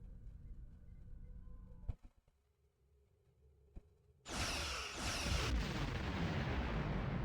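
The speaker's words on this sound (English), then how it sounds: "Target that ship and fire all weapons" Starship weapons fire at a Undine planet killer in the space combat game Star Trek Online. A few sharp cracks are followed by a sudden loud, sustained blast with a rushing, roaring wash that fills the rest of the moment.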